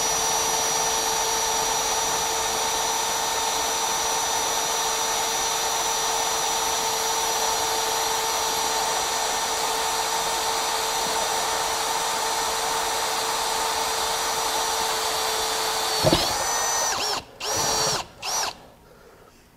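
A power drill bores through steel with a carbide-tooth cutter, a loud steady whine that holds for about sixteen seconds, then shifts pitch as it breaks through and stops in a few short bursts near the end.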